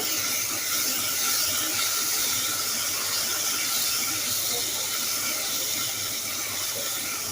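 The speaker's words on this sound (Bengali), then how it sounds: "যতক্ষণ না কাঁচা গন্ধটা চলে যায় ঠিক ততক্ষণ আমি কিন্তু এই মশলাটা কষিয়ে নেব" Spice paste with ginger-garlic paste and green chilli frying steadily in a pan, a continuous loud hiss and sizzle throughout with no talking.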